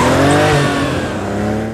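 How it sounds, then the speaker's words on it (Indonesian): A car in a film chase scene speeds and swerves, its engine revving loudly up close with a brief tire squeal, then the engine note sliding down as it pulls away. "Mikel membanting setir menggaspol mobil mengelabui Mul yang terus mengejar mereka"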